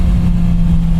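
A Kawasaki motorcycle engine held at maximum revs in second gear on a winding mountain road, a loud steady drone with a strong low hum and constant roar that never lets up over about a second.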